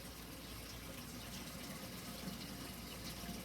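Water runs steadily into a Brewer's Edge fermenter pot, filling it about half full for cleaning; a continuous, even rushing and splashing that stays close and constant throughout with no voices.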